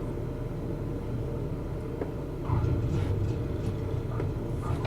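An airliner in Flight Simulator 2020 touches down near Boston and rolls along the runway, a low continuous rumble that grows heavier at touchdown, with faint light thumps and no talking.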